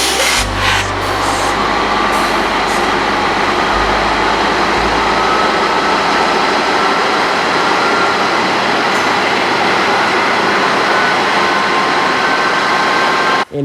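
A CSX manifest freight train rolls past close by, a loud, steady roar of wheels and cars on the rails that fills the whole stretch without a break and cuts off abruptly at the end.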